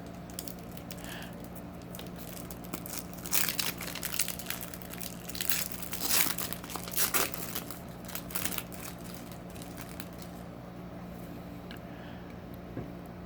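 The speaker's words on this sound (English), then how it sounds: "So let's just open these real quick." Trading card booster pack wrappers from a Legendary Decks II set being torn and crinkled open, bursts of crackling foil rustle over a steady low hum, loudest in the middle and fading to occasional crinkles.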